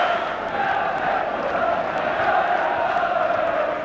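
A sellout crowd of 37,000 Newcastle United fans fills the stadium for Kevin Keegan's 500th and last Football League game, producing a loud, continuous roar and chant that holds steady throughout.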